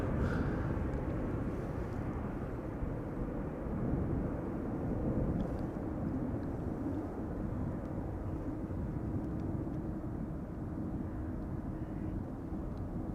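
A 13-year-old KLM Boeing 737-800 departs Schiphol Airport, its engines producing a steady, broad low roar that holds at a moderate distance throughout, no voices.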